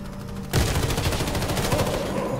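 Video game gunfire in Warface: after a half-second of quieter background, a loud burst of rapid automatic shots rattles on steadily to the end.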